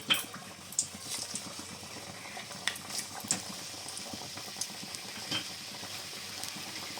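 Cauliflower and peanut singaras frying in oil, a steady soft bubbling and crackle with a few sharper pops, moderately quiet and continuous throughout, no voices.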